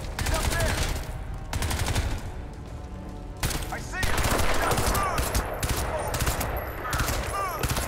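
Gunfire in the shooter game Crysis 2 crackles in rapid automatic bursts, broken by short pauses, while a voice talks over the shooting throughout.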